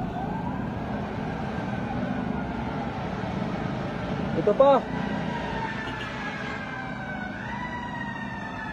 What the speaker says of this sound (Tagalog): nagsirating na yung mga rescue fire truck natin